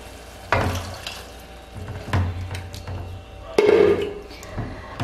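A spinach and tomato Indian-style sauce simmers and sizzles in a pan on a home stove, a steady bubbling hiss with a few louder stirring scrapes, up close and with no talking.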